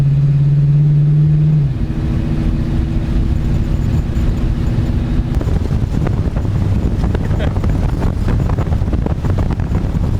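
Heavy wind roars and buffets against the microphone over the rumbling engine of a moving Dodge with a Hemi swap, loud and continuous throughout, with a low hum fading early on.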